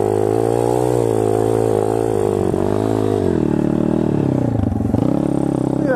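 An SSR 160 pit bike accelerating hard in first gear through snow, its engine loud and close with a buzzing tone that holds high, wavers, then dips and climbs again.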